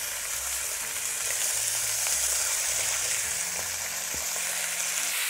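Steak sears in hot oil in a pan for steak Diane, making a loud, continuous, close-up sizzle over a faint low hum, with no voices.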